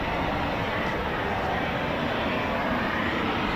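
Eurofighter Typhoon FGR4 jet at RAF Coningsby, a loud, constant broadband roar with no break, as if the aircraft is close by.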